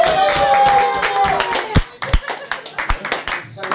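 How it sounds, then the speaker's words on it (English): An audience at a concert claps during a musical performance, a dense burst at first that thins to scattered individual claps, and a lingering music note can be heard at the start. "So can we have a round of applause for Cora, please?"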